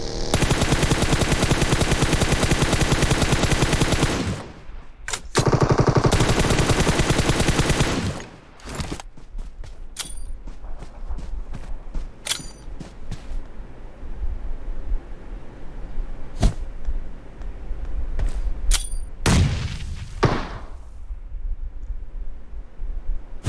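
Loud sustained machine-gun fire bursts in an online shooter game, followed by sparser single gunshots and sharp blasts from thrown grenades, with noisy stretches between.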